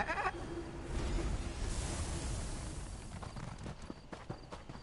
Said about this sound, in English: Alright, let's get the sheep next.